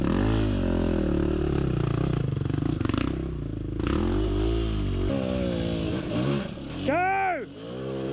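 Dirt bike engine revving loudly on a Watagans trail, with Yamaha WR250R, KTM, Husqvarna and Beta machines present, a continuous throaty drone rising and falling under people shouting.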